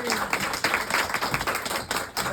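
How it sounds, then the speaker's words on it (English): An audience claps and applauds steadily, a dense patter of hands that fades slightly near the end. "Give a round of applause for the artist."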